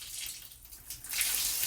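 A tap runs into a washbasin on a worker's accommodation unit at a farm. The strong-pressure water makes a soft steady hiss that rises slightly partway through, with no voices.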